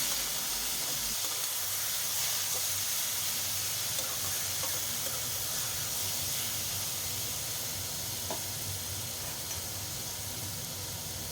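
Boiled taro stems being stir-fried with dried fish: a steady, faint hiss of frying that runs unbroken throughout, with only a few light clicks of stirring.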